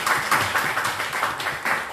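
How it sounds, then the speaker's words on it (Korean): A church congregation at Sunday worship claps in welcome for a newcomer, a brief steady patter of hands with rhythmic pulses, fairly close and alone without talk. "박수로 환영해 주시기 바랍니다."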